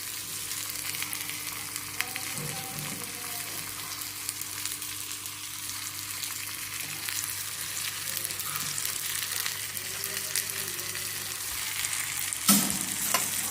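Chana and urad dal roast in hot oil in a pan with a steady close sizzle and frying crackle, occasional stirring scrapes, and a sharp clatter near the end.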